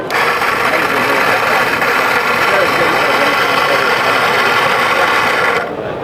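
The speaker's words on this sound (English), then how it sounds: "this grinder grinds about 60 grams of coffee in 30 seconds" A hand-built Moccamaster burr grinder grinds coffee, about 60 grams in 30 seconds, with a loud, steady mechanical whir nearby that holds for several seconds and then cuts off near the end.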